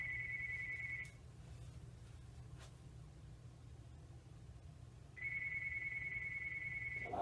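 A telephone rings in steady electronic bursts, one long ring followed by a pause and then a second ring, clear and fairly close over a low hum with no one speaking.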